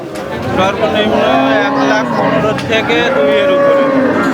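Jersey cows at a busy cattle market moo loudly and repeatedly, long drawn calls overlapping up close amid crowd noise and voices.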